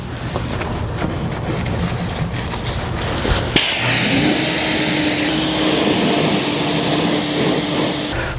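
A car engine revs up hard and holds a deep, steady drone after a sharp jump in level, loud and close with no talking over it.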